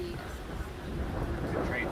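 Thunderstorm with heavy rain and strong winds in Carsland, Alberta, a low rumbling of thunder under a steady wash of rain, with faint voices in the background.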